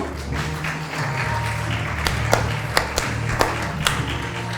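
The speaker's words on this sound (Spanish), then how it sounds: "Denle un fuerte aplauso al Señor." A church congregation claps over music, a steady bed of applause with a few sharper, louder claps standing out near the end.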